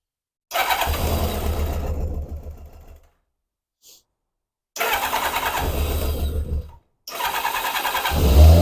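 A Kawasaki ZZR600 motorcycle engine revs in three loud, close bursts separated by short silences, with a slight misfire in its running.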